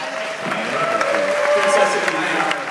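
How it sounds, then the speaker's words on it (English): Audience at a film screening Q&A for the 1998 film 54 applauds, moderate steady clapping heard under a faint tone and a few voices. "A round of applause."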